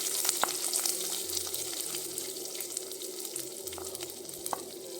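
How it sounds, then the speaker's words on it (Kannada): Onions and vegetables sauté in a pan for jowar pulao, a soft close sizzle with faint hiss and occasional light clicks of stirring, fairly quiet and steady. "ಇಲ್ಲಿ ಸ್ವಲ್ಪ ಈರುಳ್ಳಿ ಹಾಕ್ಕೊಂಡು ಈಗ ಬಾಡಿಸ್ಕೊಳ್ತಾ ಇದ್ದೀನಿ"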